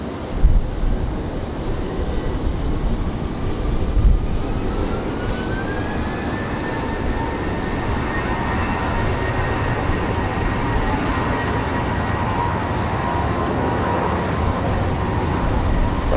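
An America West airliner passing an airport, a loud steady engine roar with a slowly rising whine as it goes by, a broad continuous rumble throughout.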